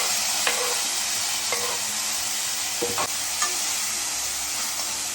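Onions sautéing in a pan for a bottle gourd curry give a loud, continuous sizzle, with a few distinct spoon scrapes and knocks against the pan at intervals.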